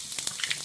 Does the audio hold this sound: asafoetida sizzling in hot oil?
yes